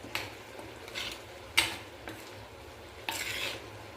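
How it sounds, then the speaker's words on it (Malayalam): Prawns being stirred into avial in a pan, several scraping spoon strokes against the metal every half second or so over a gentle background sizzle, close and unvoiced. "കൊഞ്ചിട്ട് ഞാൻ ഇനി ഇളക്കി കൊടുക്കും"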